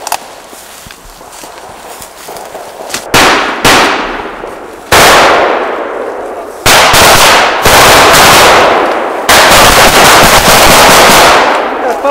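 Loud bursts of rifle and automatic gunfire during Finnish Army reservist battle training, sharp cracks and rapid volleys ringing out in sequence, close to the microphone and echoing across open ground.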